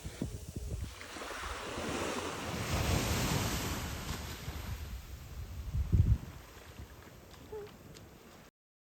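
Sea waves wash steadily onto a beach, a continuous rushing surf mixed with wind buffeting the microphone, swelling in the middle and ending with a louder surge.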